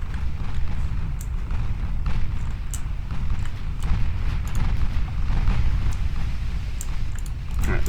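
Battleship guns in the naval strategy game Ultimate Admiral Dreadnoughts keep up a steady heavy rumble of distant gunfire, a dense continuous low roar with faint scattered reports and no clear separate blasts.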